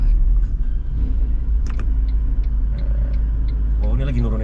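A Toyota Land Cruiser 70 series pickup used to shuttle mine workers climbs a slope in second gear, its engine a loud steady low rumble heard from inside the cab, with people talking over it.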